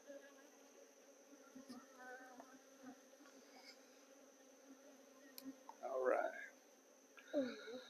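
Honey bees hum steadily inside an opened hive during a brood chamber inspection, a low continuous drone with a couple of louder close passes near the end, heard under quiet handling noise.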